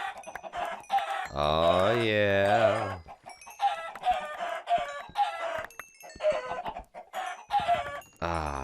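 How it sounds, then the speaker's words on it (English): Chickens cluck and a rooster crows in a video game, with repeated clucks and one long crow, fairly close, while someone talks briefly over them. "today we're going to start off everything by slaughtering the hell out of all the chickens"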